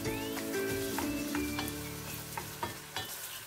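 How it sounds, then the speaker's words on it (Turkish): Ground meat fries in a pan for an eggplant and minced meat dish, a steady close sizzle broken by several sharp clicks of a utensil stirring and scraping the pan. "şimdi biraz daha kavrulsun"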